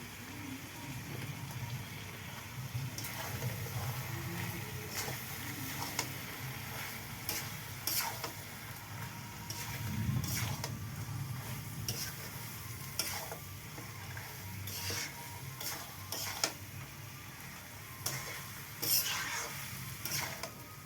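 Duck meat fries with a soft, steady sizzle in a pan while a utensil stirs and scrapes it in repeated, uneven strokes close by, with occasional faint voices in the background.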